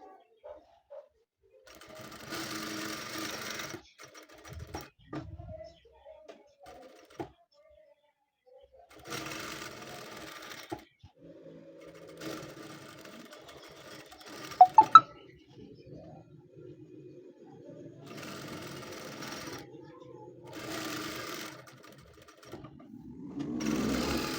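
A sewing machine stitches around a blouse sleeve in several separate runs of steady whirring, broken by pauses with faint handling clicks and a couple of sharp metallic taps.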